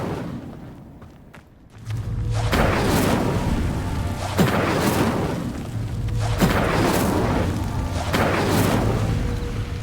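An Incendio fire spell is cast in Hogwarts Legacy, producing loud, booming whooshes of flame that roar up about every two seconds, three or four bursts in a row over a sustained fiery rush, with no talking.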